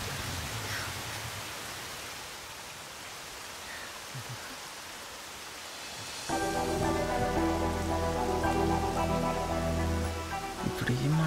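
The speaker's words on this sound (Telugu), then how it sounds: "వర్షం చాలా చల్లగా ఉంది కదా" Rain falls steadily outdoors, a broad, constant hiss of drops on surfaces, heard alone at first before music swells in and continues over it for the second half.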